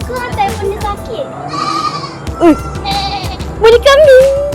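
A goat bleats several times in short wavering cries during a visit to an animal area in Putrajaya, mixed with people talking nearby and general outdoor bustle.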